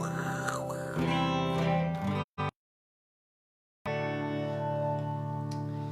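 Loud, distorted electric guitar chords ring through an amp effect, then cut off abruptly into a second of silence before the sound resumes, sustained and buzzing.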